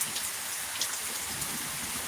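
Steady outdoor rainfall, a dense even hiss of drops hitting surfaces with occasional louder spatters, close and constant throughout, no talking.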